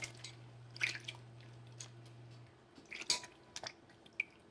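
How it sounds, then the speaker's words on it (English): Homemade butter is worked and squeezed by hand in a bowl of cold water, giving soft, close wet squishes and drips in irregular bursts over a quiet background, with no talking. "Now you're going to wash out your butter like this."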